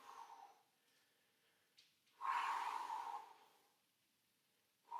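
A strong, sustained exhale pushed out during a leg and glute exercise, close and breathy, standing alone between faint quieter breaths.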